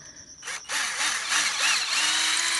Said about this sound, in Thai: อันนี้คือเจาะนำร่องเหมือนเดิมนะคะก่อนที่จะยิงสกรูยึดนะ